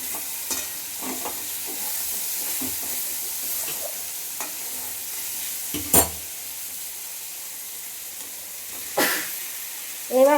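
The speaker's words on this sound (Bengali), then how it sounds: "এবার ভালো করে আবার কষিয়ে নিই।" A spice paste with sugar being sautéed in a pan, giving a soft continuous sizzle broken by a few sharp scrapes and knocks of stirring.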